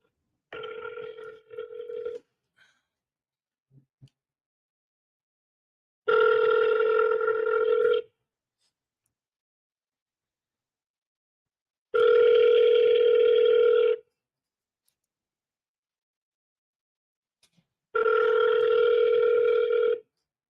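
An outgoing phone call rings back four times, each long tonal burr lasting about two seconds and separated by roughly four seconds of silence, clear and close.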